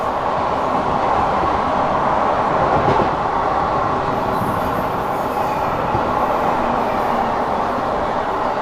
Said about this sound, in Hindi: साथ में से आएगी मुंबई CSMT निज़ामुद्दीन 2221 CR राजधानी एक्सप्रेस